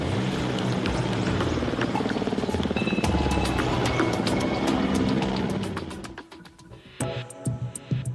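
Mil Mi-8 medium-class helicopter heard loud and close, a dense steady rotor and turbine roar for about six seconds that then drops away, leaving quieter scattered mechanical sounds.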